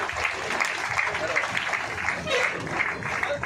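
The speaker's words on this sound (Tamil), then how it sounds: "இந்த மாணவிகள் தங்களுடைய கைத்தட்டலை கொடுக்குமாறு அன்புடன் கேட்டுக்கொள்கின்றோம்." Audience applause for prize-winning students at a school drawing competition prize ceremony on World Wetlands Day in Pallikaranai, a steady wash of clapping that sustains throughout at moderate level, with a faint background voice underneath.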